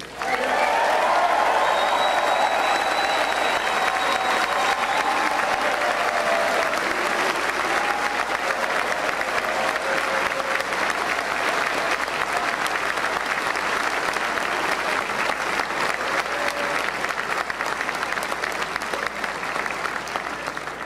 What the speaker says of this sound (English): I want to pay a special and ask for a big round of applause for Maxime Bernier